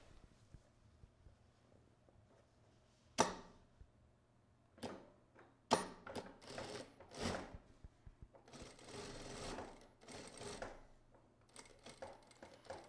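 A sewing machine sews a seam along pinned fabric at a sewing workshop. It runs in several short, faint bursts separated by quiet pauses and small handling noises.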